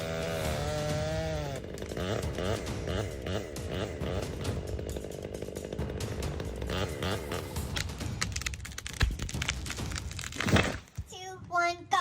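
A chainsaw cuts into a big tree trunk, its engine snarling close and loud with rising and falling revs through most of the stretch before a sharp crack and a brief burst of other noise at the end.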